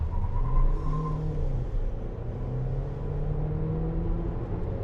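A Haval H6 PHEV 1.5T car accelerates hard from a standing launch, heard from inside as a steady low rumble and rising engine whir that holds for several seconds.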